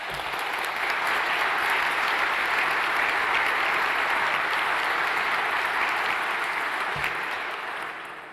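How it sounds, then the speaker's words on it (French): Sustained applause from an audience filling a hall at a mathematics-year launch event, steady dense clapping throughout that tapers slightly at the end. "Je vous demande même de les applaudir, s'il vous plaît."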